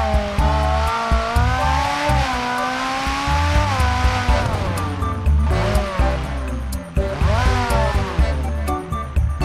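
A Ferrari 458 in BeamNG.drive accelerates hard for a container long-jump run, its engine revving loud and close through repeated rising and falling pitch sweeps as it shifts, with a light wash of road and tire noise and no voices.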